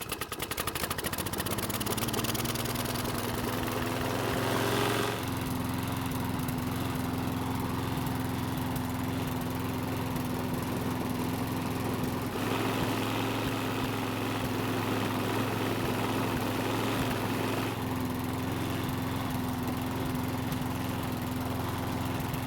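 A Troy-Bilt lawn mower engine with rod knock runs steadily with a loud, continuous drone, choke held open, its tone rising as it settles and holding at a constant throttle throughout.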